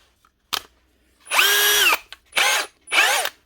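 A Hikoki DV18DBFC2 cordless drill, repaired after stripped gears, whirs in several short bursts: a brief blip, one longer run, then two more spins of about half a second each, close and loud.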